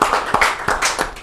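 A short burst of audience clapping at a Rajasthan Parishad 'Meet the Icon' gathering: quick, uneven hand claps in a few rhythmic pulses, fairly close and lasting only a moment.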